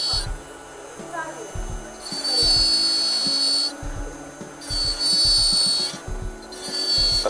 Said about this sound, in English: We slowly engage the burr, remaining all the while at least 2 millimeters below the free gingival margin